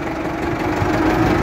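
A Ford 6610 tractor engine runs loud and close with a steady mid-pitched rumble and slight knock while the driver shifts up through the gears, with no voices over it.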